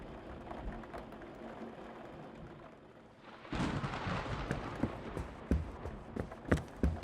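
Heavy rain and rolling thunder in the video game PRIM, a steady wash for the first few seconds that suddenly swells into a louder, dense downpour with sharp crackling bursts near the end.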